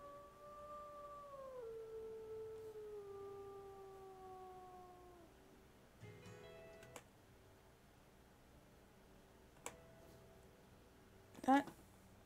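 Wolves howl in the wolf simulation game WolfQuest AE: a long, faint, wavering howl slides gradually downward, followed by quieter sparse clicks and a sharper cry near the end, all distant and soft.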